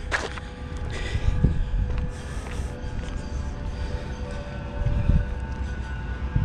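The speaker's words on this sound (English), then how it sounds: "Oh, and there's the tram now" A tram rolls past at MediaCityUK on an evening, a low rumbling rail drone with faint metallic hum and squeal over steady wind noise, swelling slightly toward the end as it draws nearer.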